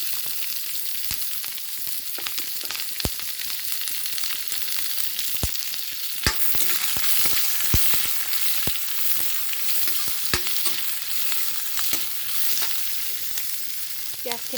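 Onions fry with bay leaf in a hot pan, a steady close sizzle broken by sharp clacks of stirring against the pan.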